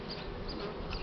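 Buckfast honey bees buzz steadily across hive frames during a spring inspection, a dense, continuous low drone close by with no talk over it.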